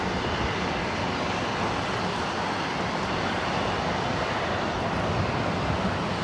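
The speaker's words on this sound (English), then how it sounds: "This flight heading to Guadalajara. It's an A320 Neo, flight 511." Airbus A320neo airliner on flight 511 to Guadalajara at Los Angeles LAX, a steady broadband jet engine roar sustained at constant loudness throughout, with no speech.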